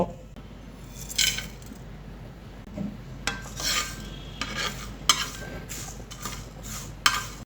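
Whole spices (coriander, bay leaves, cloves and small cardamom) tossed in a dry pan, with repeated scraping and clinking strokes of a spoon against metal, in short irregular bursts over a low steady background, close by.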